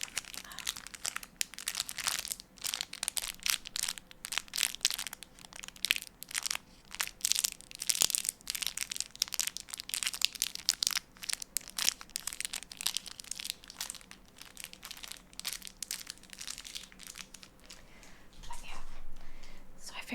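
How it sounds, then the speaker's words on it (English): Crinkly plastic packaging is handled close to a microphone, giving dense, irregular crackles and crunches that run continuously at a soft, intimate level. "Kind of a lot of wasted plastic, but at least it means we get crinkle sounds."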